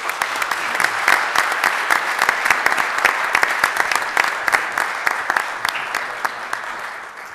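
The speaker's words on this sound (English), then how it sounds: "Let's give them a big round of applause." Audience applause fills a city council meeting chamber, steady dense clapping with sharp individual claps standing out, sustained for several seconds at moderate loudness without talk over it.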